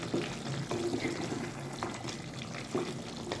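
Beef curry with garam masala and green chillies is stirred in a pan, giving a steady, close sizzle with soft scraping and occasional clinks throughout, with no talking.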